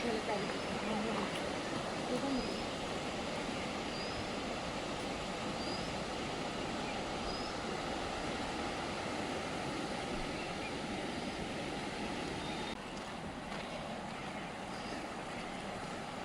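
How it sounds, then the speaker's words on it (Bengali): Rushing water of the Riang river pours over huge boulders, some taller than a person, a steady, dense broadband roar close by that continues without a break throughout. "খুব জলের আওয়াজ হচ্ছে এদিকে।"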